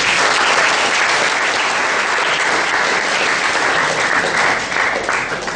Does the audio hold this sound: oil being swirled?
no